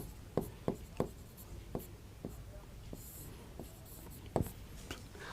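Chalk or pen strokes tapping and scratching on a board as a Hindi word is written during a grammar lesson, a series of short distinct taps spaced about half a second apart, close and clear over a soft background hum.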